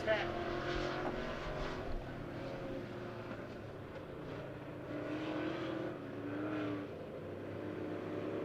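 Midwest Modified race cars roar around a speedway oval on the last lap of a heat race, a distant, sustained engine drone that swells and fades under a public-address announcer's talk.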